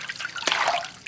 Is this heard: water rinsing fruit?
yes